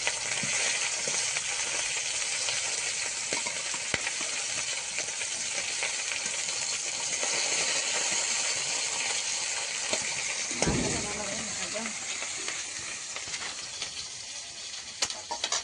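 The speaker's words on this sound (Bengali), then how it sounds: "কড়াইয়ের তেলটা গরম হয়ে গেছে, ওদিকে মাছটাতেও লবণ হলুদ মাখানো হয়ে গেছে। এবার দিয়ে দিচ্ছি মাছ।" Lote fish, rubbed with salt and turmeric, frying in hot oil in a karahi: a dense, loud, unbroken crackling sizzle close up, easing slightly toward the end with a few sharp pops.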